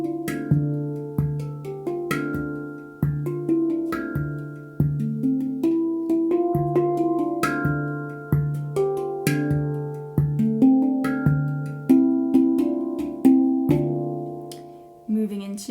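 A resonant handpan plays a flowing melody of struck tones in repeating patterns, each note blooming and ringing into the next at a steady, meditative pace, close and clear without speech.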